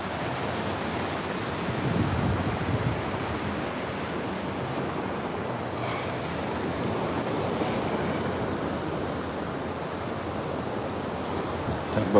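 Ocean waves wash steadily onto Coney Island beach in a continuous broad surf roar, moderately loud with light wind noise and no voices.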